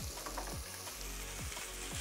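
Finely chopped bacon fries in a pan without added oil, sizzling steadily and crackling up close, with a few soft stirring knocks.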